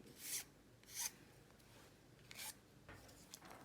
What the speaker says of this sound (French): je vais régulariser avec l'aide de la lime plate ma découpe pour suivre à peu près le tracé